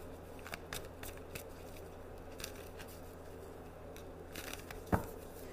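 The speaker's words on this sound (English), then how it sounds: "I'm going to shuffle two times." Tarot cards are shuffled in quiet, soft papery riffles and taps at close range, with a sharper snap near the end and no talking.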